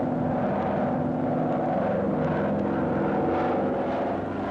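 Piston engines of a P-38 Lightning fighter, a twin-engine reconnaissance plane of 1945, drone steadily and loudly through the whole stretch with a thick, constant roar and no voices.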